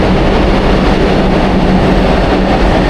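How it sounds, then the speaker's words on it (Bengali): A Kolkata Metro Orange Line train pulls out of a station, a loud, steady roar of wheels and motors filling the platform throughout, with no talk. "আমাদের ট্রেন চলে গেল বেলেঘাটার উদ্দেশ্যে"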